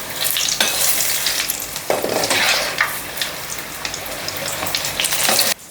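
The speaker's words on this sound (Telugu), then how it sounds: "ఇట్లా సౌండ్ రావాలి మిర్చి కాలుతుంటే" Green chillies fry in hot oil with a loud, close crackling sizzle, hissing continuously with bursts of spattering and occasional stirring clinks against the pan.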